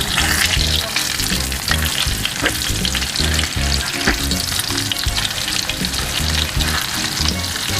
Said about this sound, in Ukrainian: и жарим до румяной корочки с обеих сторон